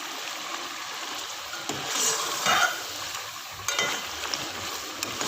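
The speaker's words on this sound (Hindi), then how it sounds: "मसाला हमारा अच्छी तरह से भून रहा है" Masala and chicken frying in a pan, a steady soft sizzle with faint stirring scrapes and small crackles, no talking.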